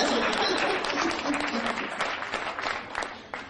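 An indoor awards ceremony audience claps in a dense burst of applause that starts loud and slowly tapers off over a few seconds.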